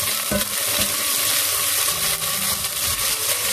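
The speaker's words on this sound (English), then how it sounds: "And here goes in my chopped garlic. And also our diced potatoes. Give this all a quick stir." Chopped garlic and diced potatoes hiss in hot oil in a pan while being stirred, a steady loud sizzle with soft scraping close by.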